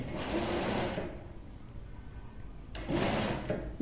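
A sewing machine runs in two bursts of steady motor whir and needle chatter with a quiet pause between them, stitching a boat neckline of a dress with thread piping.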